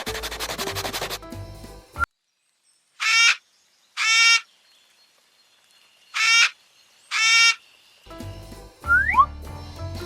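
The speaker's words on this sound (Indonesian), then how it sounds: "8 burung kakak tua berkicau." Parrots chirping and squawking in short, bright, repeated whistled bursts, four distinct calls separated by silence, set between stretches of children's music.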